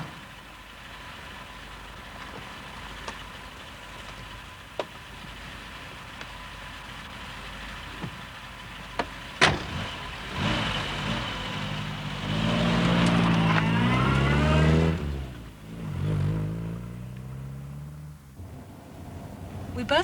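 A car engine idles and then revs up as it pulls away on a road in the Hebrides, Scotland, with a door clunk and travellers talking nearby before the engine note rises and fades.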